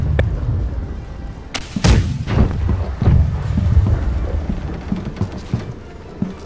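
Heavy ship cannon booms in the video game Blackwake fire in quick succession, loud and close, with creaking and low rumbling between the shots.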